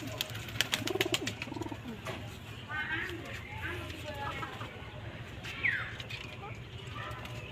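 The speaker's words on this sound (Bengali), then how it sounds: "তা আজকে আমার যে শখের কবুতরগুলা, সেই কবুতরগুলা আমি এখন দেখাবো আপনাদেরকে।" Pet pigeons in a home flock of about twenty coo in soft repeated calls, with a few brighter bird chirps scattered across the clip over a steady low hum and some background noise.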